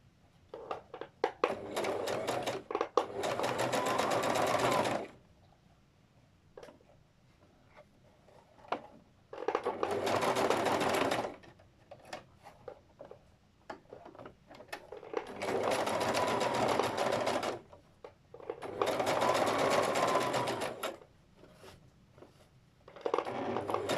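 A sewing machine stitches folded fabric in four long bursts of fast mechanical whirring, each several seconds long, separated by quieter pauses with small handling clicks and no talking.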